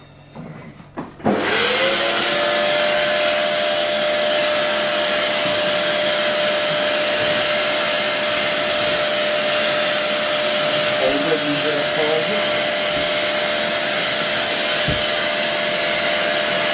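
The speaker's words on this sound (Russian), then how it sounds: "Подключил пылесос" A vacuum cleaner switches on abruptly and runs at a loud, steady whine for the rest of the clip, with a few faint knocks underneath.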